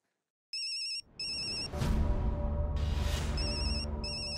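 A telephone ringtone in a Hindi family sitcom household: repeated electronic chirping bursts ring out loud and close, pausing briefly, then continue over a swelling background music bed.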